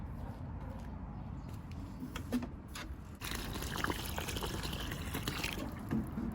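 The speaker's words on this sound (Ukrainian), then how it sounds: "Отак от наливаю води, потім висаджую помідор" Water is poured into a small planting hole in garden soil for a tomato seedling, a continuous splashing, gurgling pour that grows fuller partway through, close by with no talk.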